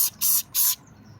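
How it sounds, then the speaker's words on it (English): Two short, loud bursts from a spray bottle as cleaner is misted onto a neglected VW Jetta near the road-grimed lower body, each hiss ending sharply, with a quiet pause after. "We need to actually spray this down here."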